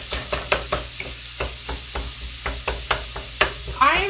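Sausage frying in a pan for a breakfast casserole, a steady close sizzle broken by repeated scraping stirs of a utensil, a dozen or so strokes, with a brief metallic clatter near the end.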